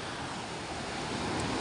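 A strong river current rushing steadily in a broad, continuous roar of flowing water, loud and unbroken from start to finish, with no voices.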